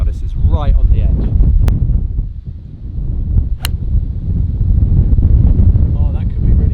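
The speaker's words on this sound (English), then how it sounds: "You wouldn't believe the wind unless you could hear it, which I'm sure you can." Strong, howling wind gusts across a golf course and buffets the microphone in loud, uneven bursts, with people talking over the roar.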